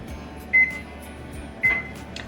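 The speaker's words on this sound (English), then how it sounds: "right now I'm gonna turn my oven on, make sure there's nothing in it" An electric oven being switched on for a self-cleaning cycle gives two short, loud electronic beeps about a second apart, each a steady tone, over a quiet room with no voices.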